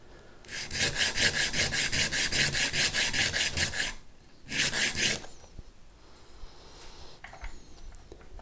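Bone guitar nut filed to fit for an ES 335 build, a long run of quick, regular rasping strokes, a pause, then a shorter burst, with faint handling noises afterwards.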